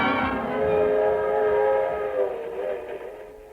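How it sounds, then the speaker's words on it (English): Train sound effect for a radio drama set at a suburban railroad station: a steady, whistle-like harmonic tone over rolling rail noise that slowly fades, with no voices. "A suburban railroad station."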